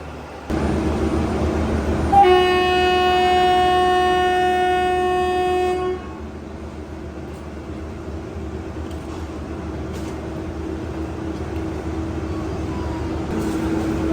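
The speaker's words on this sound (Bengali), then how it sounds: "আমাদের ট্রেন ছেড়ে দিল কলকাতা স্টেশন থেকে ঠিক তার সঠিক টাইম" The Sairang Express sounds a loud, sustained horn for several seconds as it departs Kolkata station, followed by a steady low rumble of the moving train.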